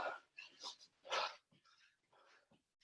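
A dog in the room during a home workout gives a few soft, close whimpers and yips mixed with breathing, brief and faint.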